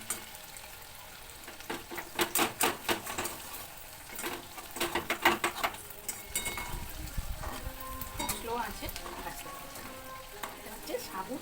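Sago puri fries in a small amount of oil in a pan, sizzling softly and steadily. A run of clattering utensil stirs and scrapes sounds close by partway through.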